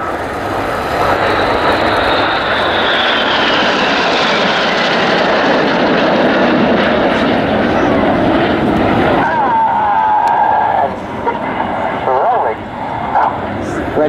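Red Arrows synchro pair jets fly past upside down at an RAF Waddington air display: a loud, sustained jet roar that swells and slowly shifts pitch, then drops off near the end while a commentator talks over it.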